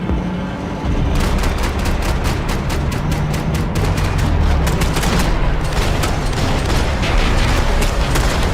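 Relentless gunfire from the shooter game Max Payne 3 on hardcore difficulty rattles in rapid, evenly spaced bursts, loud and up close, with heavy booms underneath and little talk.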